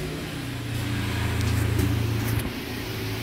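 Engine of a Toyota Avanza Veloz fitted with an iForce module, heard from inside during a test drive as a steady hum that rises slightly in a short rev before settling.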